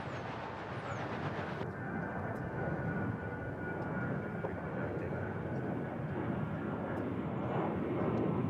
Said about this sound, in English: the next flight out is already rolling down the runway, which is Flight 329, 737-800, American Airlines going to Tampa